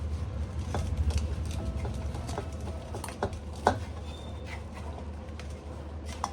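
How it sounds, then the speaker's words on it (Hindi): Potatoes are rubbed against a kitchen grater in fairly quiet, rhythmic rasping strokes, with a few sharper knocks and no talking. "पहले फटाफट से कद्दूकस कर लेते हैं सारे आलू"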